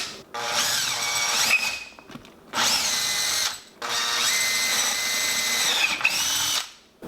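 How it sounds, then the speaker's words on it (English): A power drill bores shallow dowel holes into a wooden cabinet, running in three loud, close bursts of steady whine separated by brief pauses. "First thing I want to do is just drill out, not very far, just about as deep as the little pieces of dowel are that I cut off."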